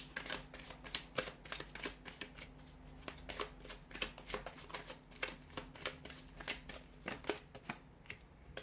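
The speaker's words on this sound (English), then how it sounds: "So we'll give the cards a shuffle here." Angel Answers Oracle cards shuffled by hand in a steady run of soft riffling and slapping bursts over a faint low hum, close and fairly quiet, with no talking.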